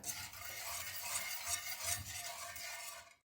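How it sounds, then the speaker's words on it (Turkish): A spoon scrapes and stirs a cake cream mixture of milk and flour thickening in a pan on the stove, a soft continuous rubbing with rhythmic strokes, faint and close, no voices. "karıştırmaya devam edeceğim şimdi."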